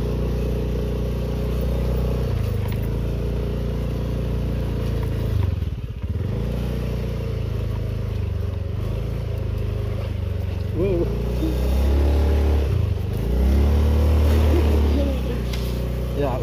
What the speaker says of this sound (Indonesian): untungnya kita pakai motor kecil